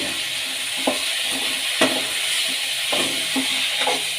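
Tomatoes dropped into a pan of frying potato bhaji give a steady bright sizzle, with a few soft stirring knocks scattered through, close and with no voices.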